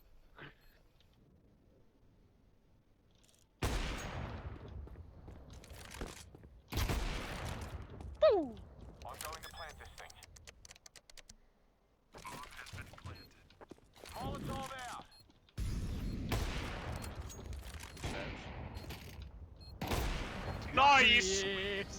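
Bursts of gunfire in a multiplayer shooter game, several loud separate volleys of rapid shots with quiet gaps between them, mixed with game effects and people talking over the action.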